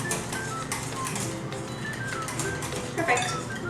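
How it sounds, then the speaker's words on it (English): A whisk clinks briskly against a mixing bowl, beating egg into a cake pop batter in a home kitchen, with rapid metallic taps running steadily and close throughout. "You just wanna whisk until your egg is broken down and everything's combined"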